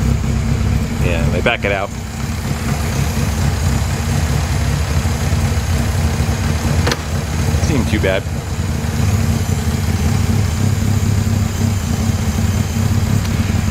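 An Alfa Romeo car engine idles steadily and fairly loud throughout, a constant low rumble that carries under intermittent talking from people nearby.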